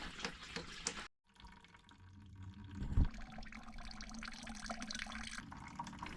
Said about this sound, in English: I remove the screw in the bottom and begin to drain off the liquid that filtered through the ashes